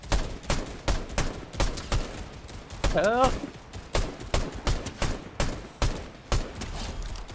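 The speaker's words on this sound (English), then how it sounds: "there's more gunfire on up there" Rapid gunfire from a Fortnite battle, sharp shots in an irregular, steady rhythm, fairly close, with a brief cry-like voice midway and players talking.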